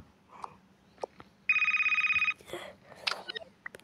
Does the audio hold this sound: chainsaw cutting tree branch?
no